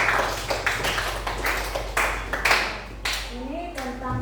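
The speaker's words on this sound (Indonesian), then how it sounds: "Tepuk tangan buat teman-teman kita." Classmates clap in a classroom, a fairly close and uneven burst of hand claps that thins out toward the end, with a voice speaking briefly at the close and a low hum underneath.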